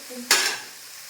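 Squid pieces for a squid roast drop into a hot pan and burst into a sudden loud sizzle that quickly settles into a softer hiss, heard up close.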